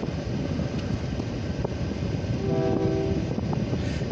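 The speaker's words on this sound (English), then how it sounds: "We got another very short grain hopper train." A very short grain hopper freight train on the OC&T feed mill line in Titusville rumbles past close by, a loud continuous roar of wheels and cars with a brief horn blast midway.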